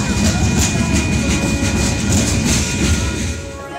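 A train rolls past close by in a loud, steady rumble with rhythmic clicking of wheels over the rails, fading slightly at the end.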